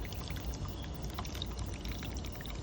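Water from a hose pours in a steady, close splashing stream, continuous and moderately loud throughout, with no voices.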